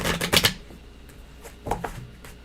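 Tarot cards being shuffled by hand: a quick rapid riffle burst at the start, followed by softer scattered flicks and a second brief shuffle later, close and fairly loud with no talking.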